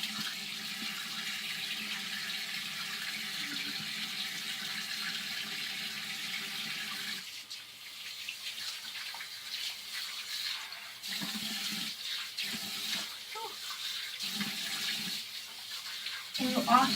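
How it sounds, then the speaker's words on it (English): Hands rinsed under a running tap in a bathroom sink during a skincare routine, a steady close water stream that breaks into splashy interrupted bursts as the hands move under it. "So now we're just going to set that in for a few seconds while I rinse my hands off."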